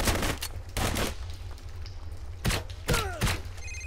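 Gunfire in Blue Estate: rapid bursts of close, loud shots in quick clusters, with short gaps and mechanical clunks between volleys over a low game rumble.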